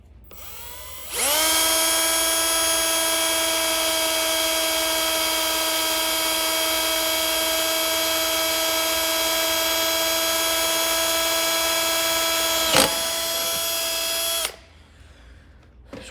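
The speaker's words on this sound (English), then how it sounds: "we're gonna take this drill and drill through the end of the crack so it don't spread." A power drill boring through a cracked metal wheel whines at a constant high pitch for about thirteen seconds, with a brief catch near the end before it stops abruptly.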